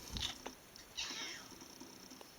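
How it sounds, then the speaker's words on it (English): Domestic cat meowing close by early in the morning: a short complaining cry near the start and a longer drawn-out meow about a second later, against quiet indoor background noise. "my cat's moaning at me"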